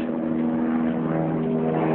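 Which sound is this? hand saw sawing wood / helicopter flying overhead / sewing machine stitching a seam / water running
helicopter flying overhead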